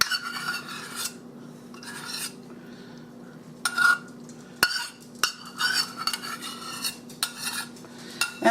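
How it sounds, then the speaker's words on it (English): A spoon scrapes and clinks around a bowl of casserole mixture with sour cream, ham and corn, in irregular bursts of stirring separated by short pauses, close and clear. "Now I'm going to stir all this and get it all mixed up real good"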